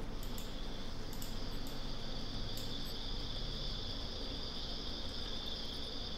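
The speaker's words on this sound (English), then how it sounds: "I can hear that natural insect sound." Cicadas outdoors buzz in a steady, high, continuous drone that comes in through a slightly open door, with a few faint rhythmic clicks on top and no talking.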